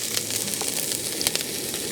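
Ginger, garlic and crushed chili sizzling in a little oil in a pan, a steady close hiss with small crackles and no talking.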